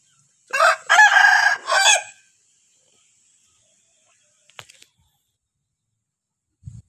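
A rooster crows loudly and close by from chickens settled in a simple coop on an overcast evening, one full cock-a-doodle-doo, then a faint click and a low thump in otherwise quiet surroundings.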